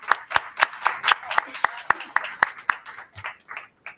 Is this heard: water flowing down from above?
no